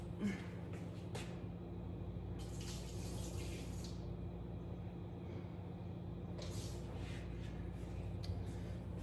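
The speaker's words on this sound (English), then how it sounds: "I think I have a little bit too much water, so let me go ahead and get that off." Excess water is poured off a pot into a kitchen sink, making a steady, faint splashing and running flow with a few brief clinks.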